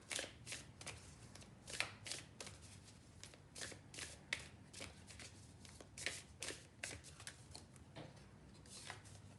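Cards from a Moonology Oracle deck are shuffled in a steady series of crisp, close riffling bursts that repeat rhythmically, quiet overall with no talk.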